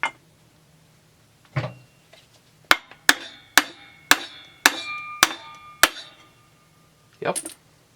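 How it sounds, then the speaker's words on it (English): Hammer blows driving a bearing out of a chainsaw, six sharp metallic strikes in quick, evenly spaced succession after a couple of scattered knocks and clatters, close and loud in a quiet workshop. "Let's see if I can hammer it out."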